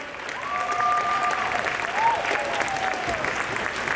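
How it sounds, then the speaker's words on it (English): Audience clapping at a Vex Robotics competition alliance selection in a gym, sustained applause with a few cheers and whistle-like squeaks cutting through the steady patter. "Let's give them one last round of applause."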